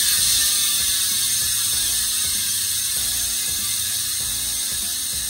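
A Weapon Ambush pulse-type bicycle rear hub freewheeling, a soft, steady fast ticking with a faint whirring hum, close and continuous without talk.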